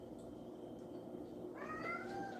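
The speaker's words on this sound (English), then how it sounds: "He was like, I'm gonna come out here and meow." A pet cat meows indoors: one drawn-out, rising-and-falling meow comes in the second half, close to the mic, over a steady low room hum with no talking.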